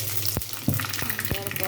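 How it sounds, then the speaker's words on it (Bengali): Whole spices crackling and sizzling as they hit hot oil for tempering lentil dal, a steady close frying hiss with a few sharp pops and stirring scrapes, no voices. "ডালটা হচ্ছে এখন ফোড়ন দেব"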